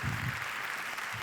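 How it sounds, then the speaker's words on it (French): An audience claps in a short burst of applause, moderately loud, with a faint voice near the start. "Vous pouvez l'applaudir bien fort."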